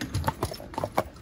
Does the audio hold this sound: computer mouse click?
no